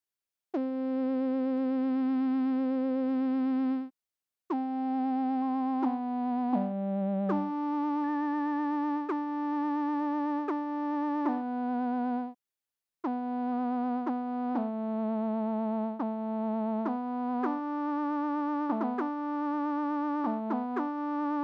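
A steady synthesizer tone holds and shifts in sustained notes, its timbre changing from one segment to the next as its harmonics change, with two brief gaps of silence.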